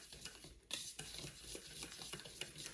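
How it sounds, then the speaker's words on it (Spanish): Chocolate cake batter from a boxed mix, with a pinch of flour added, stirred in a bowl: soft, quiet scraping and swishing strokes that repeat steadily and sound close. "Vamos a mezclar aquí muy fácilmente."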